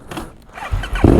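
A KTM Super Duke V-twin motorcycle is switched on for the first time, with a faint mechanical whir and then a rising low rumble that swells louder toward the end, heard nearby with no talking.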